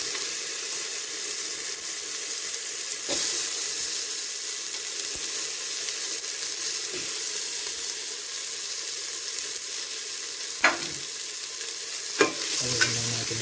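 Tomatoes frying in a pan, stirred now and then, give a steady close sizzle with a few sharp scraping clicks of the spoon against the pan, and no voices.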